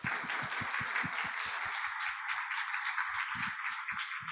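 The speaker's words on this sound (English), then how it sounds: "So a big applause to all of them again." Audience applause for the speakers at a roadmap ambassadors meeting: a dense, steady wash of many hands clapping throughout, with some low thumps early and again near the end.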